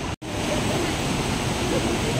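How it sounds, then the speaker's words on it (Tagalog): Rushing water of Shenxian Valley waterfall in Miaoli, Taiwan, a steady broadband roar close by, continuous apart from one brief cut near the start, with no voices. "ingay ng tubig"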